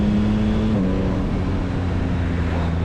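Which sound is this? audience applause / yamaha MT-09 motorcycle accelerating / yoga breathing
yamaha MT-09 motorcycle accelerating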